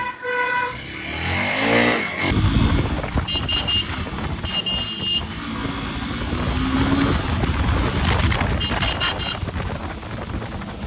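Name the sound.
Hero Xpulse 200 4V motorcycle engine accelerating on a test ride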